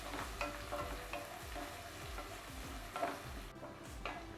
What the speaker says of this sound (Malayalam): നല്ലപോലെ ഒന്ന് വഴറ്റിയെടുക്കണം